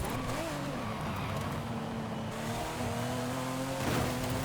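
A drag car in Forza Horizon 5 brakes into a corner, its loud engine tone dropping and wavering steadily, with a brief burst of noise near the end, and no one talking.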